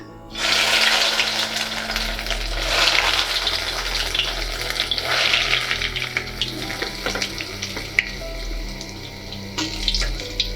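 Nendran banana pieces drop into hot peanut oil and fry with a loud, rushing bubbling sizzle that starts abruptly and continues steadily, close by, easing slightly toward the end.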